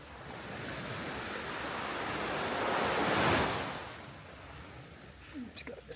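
Ocean waves wash onto a beach on Pangkor Island, a broad surf rush that swells to a peak and recedes, with wind noise on the microphone and a few light knocks at the end.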